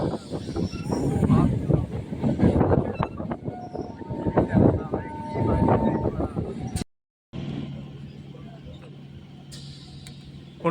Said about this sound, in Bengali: ট্রেন ঢুকছে আজকের জার্নির পরবর্তী স্টেশন শাসন রোডে